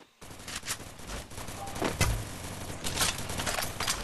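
Gunfire aimed at the player in the video game Garena Free Fire, a sustained barrage of rapid shots that starts abruptly and keeps going with bursts of varying loudness, with no speech.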